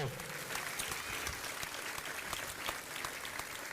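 Sustained crowd applause at a Mayo senior football championship match honouring the 1969 Garrymore county champions, steady dense clapping throughout with faint voices underneath.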